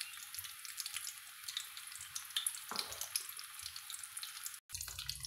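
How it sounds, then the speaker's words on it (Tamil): Small shallots and curry leaves sautéing in hot oil with mustard seeds while cooking an okra kara kuzhambu, heard as a steady close sizzle and crackle with a sharper burst partway through. "கடுகு பொரிஞ்சதும் சின்ன வெங்காயம் கருவேப்பிலையும் சேர்த்துக்கலாங்க. சேர்த்துட்டு வதக்கி விட்டுக்கலாங்க."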